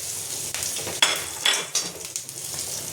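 Whole cumin seeds sizzle and crackle in hot oil alongside dried chillies and whole garam masala, with a hissing fry broken by sharp pops and a few clinks of a utensil against the pan.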